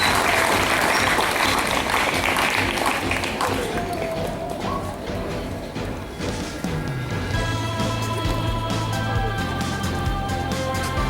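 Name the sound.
audience applause at a school event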